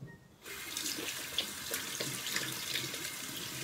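Tap water runs steadily into a sink for face rinsing, starting after a brief quiet moment and continuing as a close, even splashing stream.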